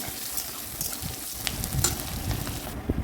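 Chopped onion and green chilli frying in hot oil, a steady close sizzle with scattered crackles and a few soft stirring scrapes, no voices.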